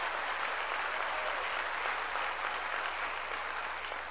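Steady, dense applause from a large church congregation, sustained and even throughout with no pauses.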